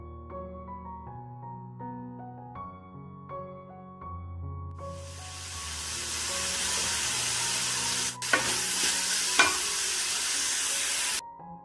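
Coconut pieces, ginger, garlic and onions sauté in coconut oil: a continuous bright sizzle swells in partway through under steady music, with a couple of sharp stirring clinks near the end.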